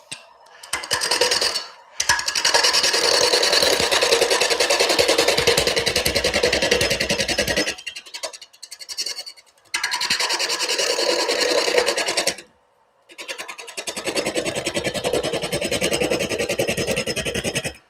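Off-center wood turning on a lathe makes a loud, rhythmic rasping and scraping in several long passes, separated by brief silent pauses, close by and without talk.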